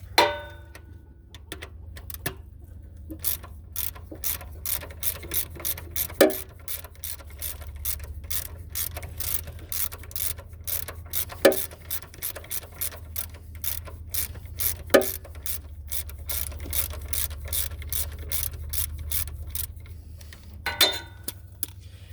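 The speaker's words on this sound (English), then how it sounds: "wiggle the starter loose now and take the bottom bolt out" Wrench ratcheting out the bottom starter bolt on a 1990 Ford Bronco with a 351W engine, a long run of quick, close metallic clicks in uneven bursts over a low background hum.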